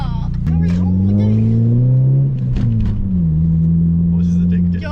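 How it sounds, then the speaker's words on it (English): Mini Cooper fitted with a loud custom Cobra exhaust, droning deep and steady while driving, with the pitch rising and dipping as the throttle changes, close and continuous throughout while people talk over it. "what is that lovely sounding exhaust you have on your car?"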